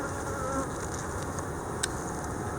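Honeybees buzz steadily and close during a March inspection of two hives, the brood nest being opened up, a continuous insect drone with a brief sharp tick partway through.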